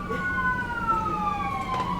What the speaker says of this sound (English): even the sirens know this is about to be a sad moment here